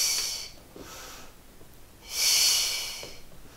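Two breathy exhales during a Pilates mat exercise, the first soft and fading, the second stronger and longer about two seconds in, both close and with no talk over them.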